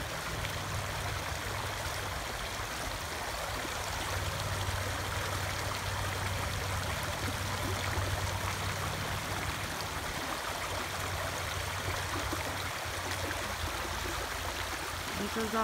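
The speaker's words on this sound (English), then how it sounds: "Like a babbling brook here." A small creek babbles through a resort property in Townsend, Tennessee, in the Great Smoky Mountains, flowing with a soft, continuous trickling wash heard nearby at low volume.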